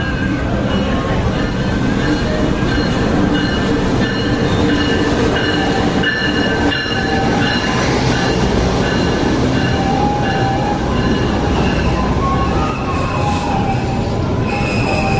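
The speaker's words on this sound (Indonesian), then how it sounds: "setelah kereta api Pepandayan tiba di stasiun" Papandayan passenger train arriving at a station, a loud continuous rumble of wheels on rails with squealing and clatter sustained throughout.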